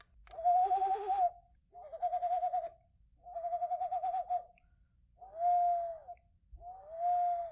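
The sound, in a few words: owl call imitated with party whistle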